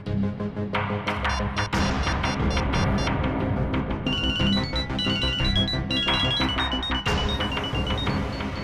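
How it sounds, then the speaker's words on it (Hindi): An odd electronic ringtone plays, a busy synthesized melody of rapid tones and chimes that repeats loudly and continuously, with no voices. "मेरे फोन करने पर अलग तरह की रिंग बजी?"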